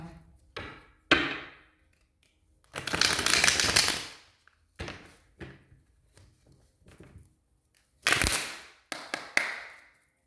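Tarot cards being shuffled by hand, several separate bursts of riffling and slapping, one long run in the middle and short sharp flurries around it, close and fairly loud with no talk.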